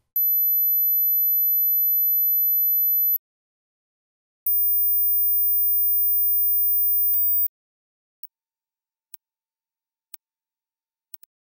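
Pure high-pitched sine test tones for a hearing check, two sustained beeps of about three seconds each at rising pitch, followed by a few short faint ticks, with no talking.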